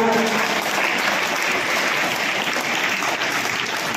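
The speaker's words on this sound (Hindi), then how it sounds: "एक बार सभी पांचों बच्चों के लिए जोरदार तालियां।" Loud, sustained applause from a school audience celebrating students' top board exam results, dense clapping filling the whole stretch without pause.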